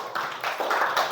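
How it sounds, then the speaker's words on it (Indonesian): A classroom of students clapping their hands during a lesson, a few quick uneven bursts of clapping that sound fairly close and moderately loud. "Kasih tepuk tangan buat kalian semua"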